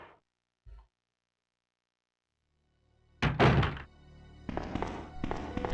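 Metal shutters activating in Resident Evil 2: a brief low thunk early on, then a loud mechanical clank and rumbling slam followed by a sustained grinding, rattling roll of shutters, with no talk.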